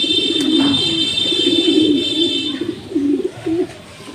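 Racing pigeons in a loft giving continuous low, rolling coos, several overlapping birds close by with a steady high background hum.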